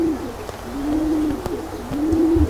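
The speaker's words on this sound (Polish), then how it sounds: "To jest inny gołąb o tej samej barwie." A pigeon coos nearby in low, rolling phrases that rise and fall, repeated three times with short pauses, clear and fairly loud with no voices.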